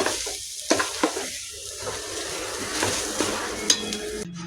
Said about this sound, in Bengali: এখন এটাকে একটু ভালো করে ভেজে নিব।